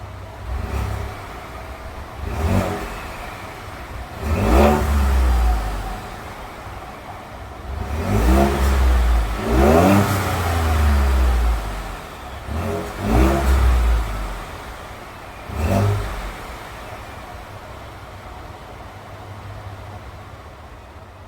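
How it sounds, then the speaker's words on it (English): A 2016 Ford F-150 2.7L EcoBoost with stock exhaust is revved about six times, each blip rising sharply to a throaty roar and falling back to idle, heard close with no talk. "Alright, and I'll get a couple of revs for you guys."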